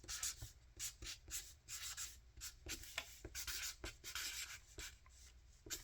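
Handwriting on paper in a craft setting, close and quiet scratchy strokes in an uneven rhythm with short pauses, with no talking.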